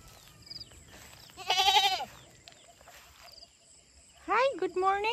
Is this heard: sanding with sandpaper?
no